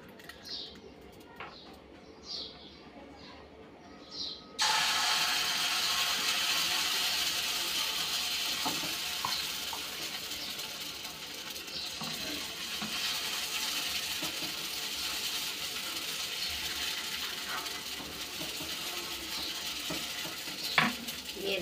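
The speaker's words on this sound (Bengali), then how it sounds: "এই যে এখন কড়াটা বসিয়ে দিয়েছি, এখন এখানে ব্যাটারটা দিয়ে দেব" Rice paste batter hits a hot wok and a loud, sustained sizzle bursts in, continuing steadily to the end after a quieter start with a few scattered clicks and faint bird calls in the background.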